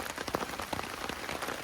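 Steady rain patters down on a campsite beside a lake in Woodland Caribou Provincial Park, a dense close hiss of drops striking the surface with no voices.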